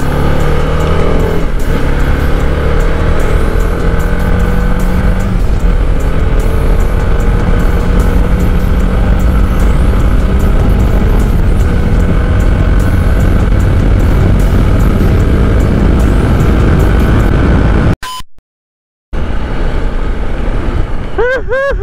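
A TVS Apache RR 310 motorcycle accelerates hard on a road, its engine roaring loud and close with rising revs and constant wind rush, cut briefly by a sudden near-silent gap before the roar returns.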